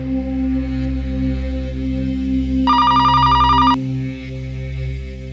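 A telephone ringtone rings once in a single short burst during a tense family drama scene, heard over a low steady hum with no talking.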